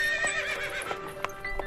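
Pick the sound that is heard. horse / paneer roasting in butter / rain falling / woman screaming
horse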